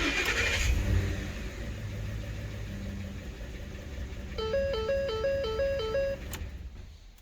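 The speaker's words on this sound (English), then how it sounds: "So you want to start your engine." A 2010 Ford F-150 engine turns over and settles into a steady idle, heard close up. A repeating electronic dashboard chime sounds over the running engine, and no one speaks.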